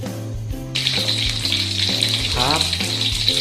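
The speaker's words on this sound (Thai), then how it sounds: "ใส่กระหล่ำปีลงไปทอดนะครับ ทอดให้เหลืองนะครับ" Cabbage dropped into hot oil and fried until golden, giving a sudden loud sizzle that holds steady over a low, constant hum.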